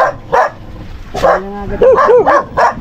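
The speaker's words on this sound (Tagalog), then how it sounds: "Dami aso ni Chong dito." Several dogs barking close by in short, sharp bursts, with a couple of whining, yelping barks in the middle, loud and repeated across the moment.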